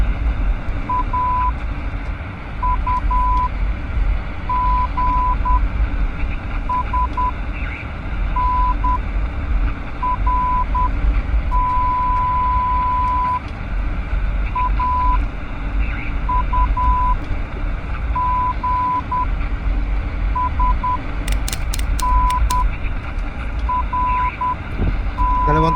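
Short and long electronic Morse code beeps in an irregular pattern play over a low background hum in the video game The Escape Together, with a brief burst of clicks near the end.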